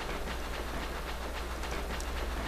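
A train in the video game EchoNight rolls along steadily, with a constant low rumble and rhythmic clickety-clack close by, with no speech.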